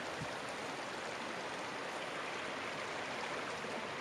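Water cascading down a series of waterfalls at a crowded natural site at sunset; a steady, even rushing hiss that holds at moderate loudness throughout.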